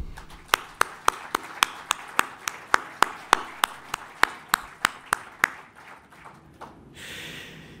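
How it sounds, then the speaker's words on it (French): At a season-opening evening of the Collège Belgique in Namur, about fifteen sharp, evenly spaced claps ring out at a measured rhythm, then fade into a soft diffuse wash of noise near the end. "je vous demande de les applaudir"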